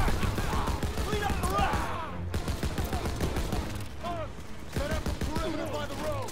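Sustained gunfire in Call of Duty: WW2, dense overlapping bursts and rattling shots throughout with a brief lull midway, under voices and battle chatter.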